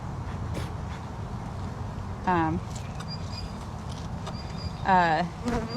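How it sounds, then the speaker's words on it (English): Angry honey bees buzz steadily at an open hive. The loud, dense drone continues throughout, with a couple of louder whining passes as individual bees fly close. "that is a mean bee right there. She's mad."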